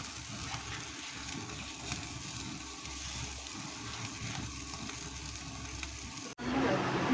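Chicken meat sizzles steadily in a pan while being sautéed for a chicken roast. The soft frying hiss holds even for about six seconds, then swells sharply louder near the end.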